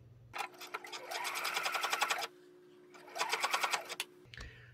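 A sewing machine top stitches fabric in two close, rapid bursts of steady mechanical stitching, separated by a short pause, with a soft hum beneath and no talking.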